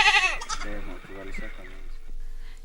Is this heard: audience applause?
no